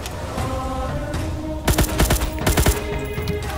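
Gunfire in a Roblox raid on a Vandenberg Space Force base, several close, sharp bursts of rapid shots clustered in the middle, over a steady background hum.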